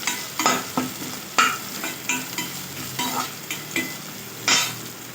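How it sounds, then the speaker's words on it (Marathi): Bay leaves fry in oil in a pan for egg biryani, a steady sizzle broken by repeated scraping strokes of a spoon stirring, fairly close and with no voices. "यात आता आपण ॲड करणार आहोत 2 चमचे तेजपान छानसं तेलात असं फ्राय झाल्यावर आपण पुन्हा एकजीव करून घेऊया."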